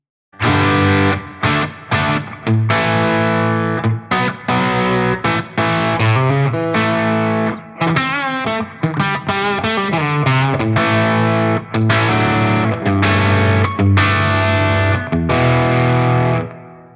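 Distorted electric guitar through an Eventide H90 pedal plays a busy riff of chords and single notes, loud and saturated with a wide reverb tail washing under it.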